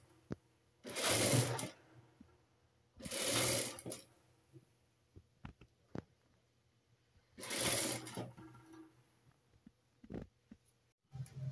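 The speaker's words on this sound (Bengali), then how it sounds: "এখন পায়জামাটা সেলাই করে নিতেছি।" Sewing machine stitching pajamas in short bursts, three loud whirring runs of about a second each with soft clicks and taps between, close and quiet-room, no talking.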